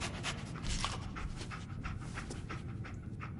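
Dogmeat, the dog companion in Fallout 4, panting in quick rhythmic breaths, close and fairly loud, with no talking.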